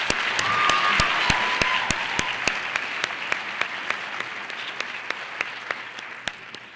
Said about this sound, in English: Let's give them all just one more round of applause.